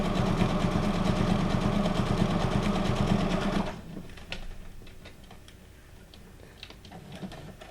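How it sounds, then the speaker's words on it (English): A sewing machine runs steadily with a fast, buzzing mechanical rhythm for several seconds, then stops, leaving faint clicks and handling noises. "since I got the sewing machine out, you know, I have to give it a go."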